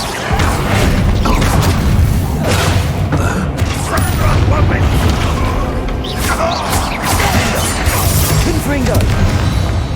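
Bombarda spell explosions and combat crashes roar through a Hogwarts Legacy fight, a continuous loud barrage of booms and impacts lasting several seconds, near and heavy with scattered sharper hits.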